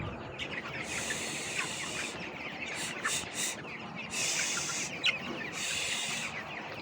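Broiler chickens in a poultry shed, a dense, steady crowd of chirping, peeping birds, with bursts of louder high calls rising over the constant flock noise throughout.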